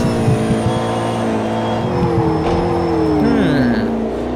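A McLaren P1 engine in Project Cars 2 drones steadily with harmonic whine, pitch rising as it accelerates through gears, with tire noise underneath and no blow-off sound; loud and continuous.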